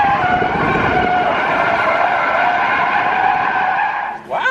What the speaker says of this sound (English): Can you see it from the inside? Can you Yeah. see me drifting through the trucks?